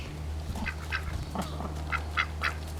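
Several ducks quack nearby in short, irregular bursts over a steady low hum.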